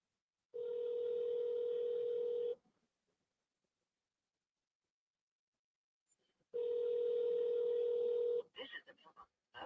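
Telephone dial tone during a troubled phone call, a steady flat hum sounding for about two seconds, cutting out to near silence, then returning before breaking into brief choppy noise.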